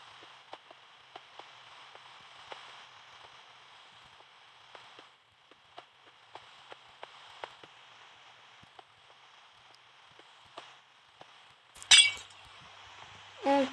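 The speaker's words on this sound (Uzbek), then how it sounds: "Bu oynalarni esa sindirib chiqamiz." Glass panes shatter in the video game Minecraft: a string of faint, sharp clinks over a steady hiss, then a louder breaking crash near the end.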